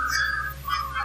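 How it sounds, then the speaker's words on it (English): Whistling captured on a digital recorder during an EVP session in the living room of the Ancient Ram Inn, a thin wavering tone that slides across the brief stretch, faint against a steady low hum. "we heard a whistling on there."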